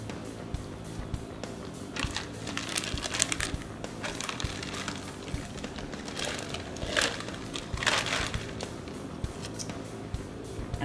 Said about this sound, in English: I place that in a plastic bag.